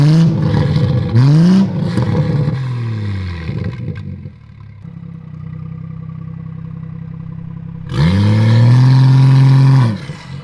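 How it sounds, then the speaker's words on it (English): A modified stage 2 car engine on 91 octane revs hard twice, rising and falling in pitch, with a lower rumbling idle between the bursts. Loud and close. "but first let's get some revs."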